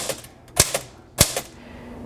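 A typewriter clacks in two clear bursts of sharp key strikes, each a loud snap followed by a softer echoing tick, close by with no voices.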